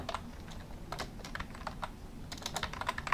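Typing on a computer keyboard while setting up Windows 2016 in VirtualBox, a steady run of close, quick key clicks with uneven rhythm throughout, no voices.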